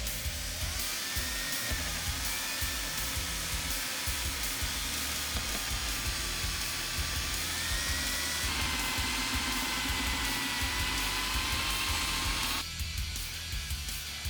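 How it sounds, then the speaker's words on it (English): A steady high whine of a power drill grinding through a metal rock slider tube on a Polaris RZR Trail runs continuously at close range, with a shifting pitch and a gritty edge, no talking. "we are going to drill straight through this hole right here"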